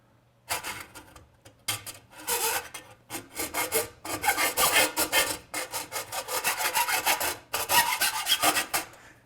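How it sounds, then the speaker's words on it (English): A file rasps back and forth over a sharp metal top edge, a run of loud, steady strokes with short pauses between bursts, close up and with no voices. "I want to file that down just a little bit"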